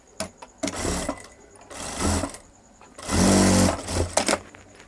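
A sewing machine stitches a princess cut blouse with a back opening, running in three bursts of close, steady whirring with short pauses between them.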